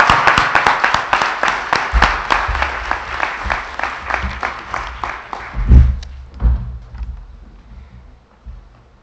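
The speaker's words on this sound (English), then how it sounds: "let's, one more round of applause." Graduation audience for an online academy's class of 2015 giving a round of applause, loud dense clapping with rhythmic beats that thins and fades toward the end, a few thumps near the close.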